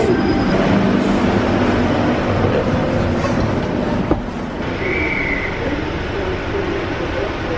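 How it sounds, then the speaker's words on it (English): Loud, steady rumble from inside a moving double-decker train in Sydney, a continuous mechanical roar with one sharp clunk partway through. "It's like a double-decker train."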